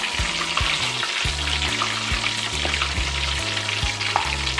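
Pork leg deep frying in hot oil for crispy pata gives a loud, steady sizzle and bubbling crackle that fills the whole stretch, with a low rumble under it and nobody speaking.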